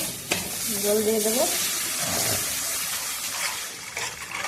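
Onion and ginger spice paste sautéing in a pan for puthi fish curry, a steady close sizzle with stirring, and a brief tonal sound rising over it.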